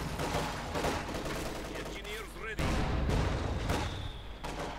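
Mortar blasts and gunfire from a Company of Heroes 2 match, a dense, continuous barrage of shots and thuds with a heavier impact midway, all mixed under steady commentary speech.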